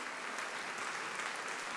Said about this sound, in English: go ahead and give the Lord a hand clap and say amen out there